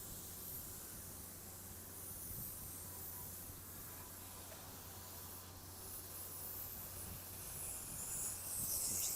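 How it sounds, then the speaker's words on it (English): Lawn sprinklers starting up and spraying in a park on Parliament Hill in Ottawa, a broad continuous hiss of water that holds steady and swells toward the end, with no voices. "More sprinklers starting up."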